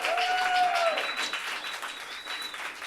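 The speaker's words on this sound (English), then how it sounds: "give them a round of appreciative applause" Applause from a live Stonewall 50 anniversary crowd, with dense clapping that starts loud and gradually thins, while a whistle-like tone and faint cheering sound over it.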